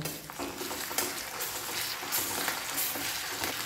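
Onion paste and ginger-garlic paste fry in a hot pan with a continuous, fairly loud crackling sizzle and occasional stirring clatter, with no voices.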